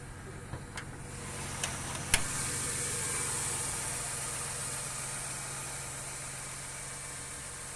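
A car engine idles steadily and quietly with a faint light tick, a couple of brief clicks sounding early on against a low hiss.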